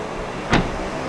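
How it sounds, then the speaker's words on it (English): A 2018 BMW M2 coupe's frameless door window drops slightly as the door opens: a single quick, soft motor whir lasting about a third of a second, close by, over a steady background hum. "As you open the doors, the windows dip down."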